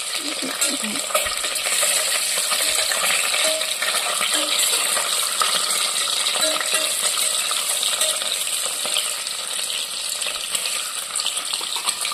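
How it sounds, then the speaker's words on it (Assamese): Eggs and potatoes frying in a pan, with a steady broadband sizzle running throughout, punctuated by light stirring scrapes and small clinks, fairly close and continuous with no talking. "এয়া ডিম আৰু আলুখিনি ফ্ৰাই কৰিলোঁ।"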